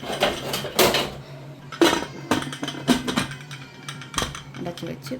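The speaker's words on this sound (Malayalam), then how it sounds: "കുക്കർ അടച്ചു വെച്ച്" A metal pressure cooker lid is fitted and closed over a pot of seasoned vegetables and water, several close, bright clanks and rattles spaced across a few seconds, with faint room noise between.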